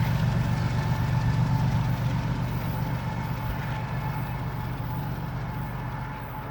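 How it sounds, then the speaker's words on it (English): A CSX freight train's rear DPU locomotive labors hard at speed, a steady loud diesel drone with a low throbbing rumble that holds throughout and eases slightly toward the end, with no talk over it. "Wow, that DPU is working hard."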